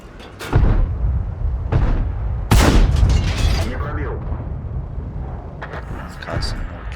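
Tank gunfire in the World of Tanks video game: several heavy booming cannon shots with rumbling tails, one especially loud and near, spaced irregularly over a layer of game noise and talk.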